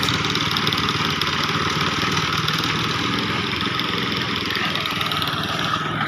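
A concrete mixer's engine runs at a construction site during a concrete pour, making a steady, loud, unbroken mechanical drone with no change in pitch and no voices.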